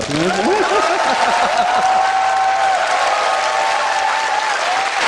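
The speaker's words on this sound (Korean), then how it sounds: "박수 부탁드립니다." Studio audience applause at a Korean political talk show, a dense, steady wash of clapping that fills the whole stretch, with a voice talking or calling out over it near the start.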